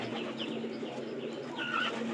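Pigeons being caught and handled before release give a steady low cooing over a dense, close background murmur, with a few brief higher chirps; no speech.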